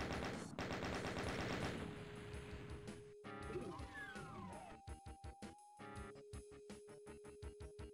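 Chaingunner enemies firing in Doom 2 on PC, with rapid repeated bursts of gunfire, steady at first and then choppy, mixed with other in-game effects and tones.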